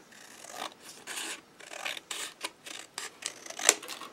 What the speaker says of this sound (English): I can just cut it off.